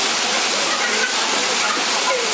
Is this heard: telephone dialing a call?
no